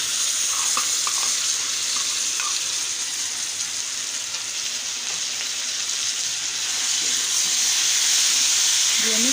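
Chicken sautéed and stirred in a karahi pan for biryani makes a continuous close sizzle with soft scraping stirs, and brief quiet utensil taps rise near the end.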